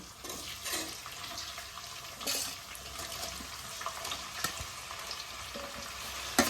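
Three thinly sliced onions fry in hot oil with cumin, giving a continuous close crackling sizzle with occasional scrapes and taps of stirring.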